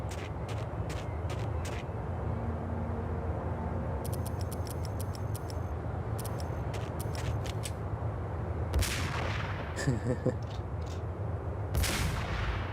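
Repeated gunfire from an unsilenced gun in the Max Payne video game, sharp cracking shots in bursts, some closely spaced, over a low steady game ambience.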